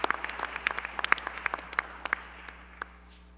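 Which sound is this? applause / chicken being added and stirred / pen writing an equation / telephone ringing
applause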